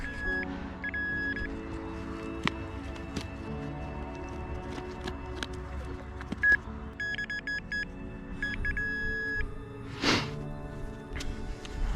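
Metal detector pinpointer emits a series of short, steady electronic beeps over a field dig, in repeated bursts with brief pauses, fairly close and clear against low outdoor background noise.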